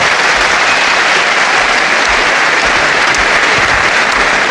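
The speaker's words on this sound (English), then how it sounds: "please, a big round of applause for both these men, Bob Kirkwood and the winner, CATWEAZLE" Sustained, dense applause from a wrestling hall crowd after a 1976 British professional bout between Catweazle and Bob Kirkwood, steady and loud throughout with no voices over it.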